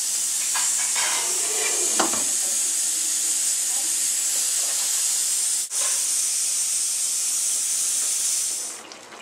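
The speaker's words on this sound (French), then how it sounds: "la frita mijote depuis maintenant environ 20 minutes" Algerian frita with chops simmering in a covered pot gives a steady bright hiss of steam and bubbling, with a few soft stirring knocks early on, constant and moderately quiet until it fades at the end.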